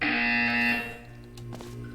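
A loud, steady electronic buzzer from the Portal 2 video game sounds for about three-quarters of a second, then cuts off, leaving fainter tonal game sounds behind.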